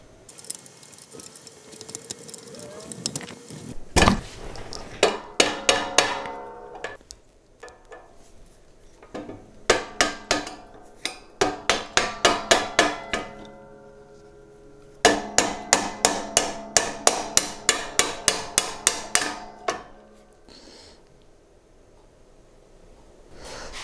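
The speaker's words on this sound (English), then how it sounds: "I'm gonna have to hammer the pins out" Repeated sharp hammer blows drive pins out of a chute height control mechanism, rapid bursts of ringing metal clanks separated by short quiet gaps and faint handling noise.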